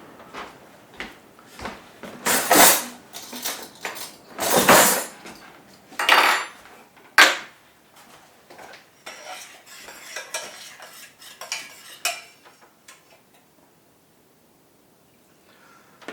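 A metal spoon clinks and scrapes against a pot while porridge is prepared, several bright clattering bursts in the first half giving way to lighter, sparser taps and then near silence.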